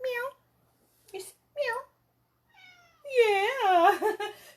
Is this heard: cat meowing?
yes